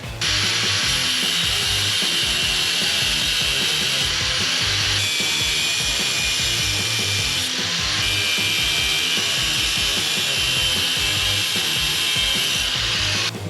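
A loud, steady power saw grinds and cuts through metal on a Foxbody Mustang's rear parking brake, a harsh continuous whine with brief dips in pitch, running close by with no talking.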